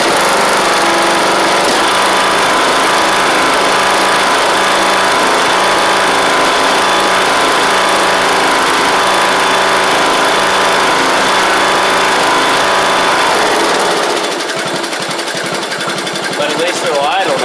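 A Troy Bilt Pony riding mower that had sat unused for a few years runs loud and steady nearby, then settles to a quieter idle, with someone talking over it.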